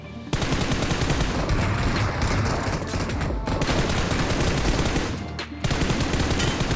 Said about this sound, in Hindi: मैंने इसके कवर में जाते जाते 2-3 M4 की गोलियां बजा दी